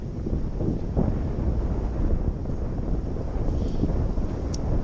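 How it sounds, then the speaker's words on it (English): Strong outdoor wind in stormy weather with sun, hail and rain roars steadily against the microphone as a continuous low buffeting rumble, loud and unbroken, with nobody speaking. "That wind was crazy."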